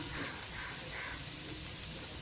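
Chopped onions and green chillies roasting in a kadhai, a steady close hiss of sizzling throughout, no talk.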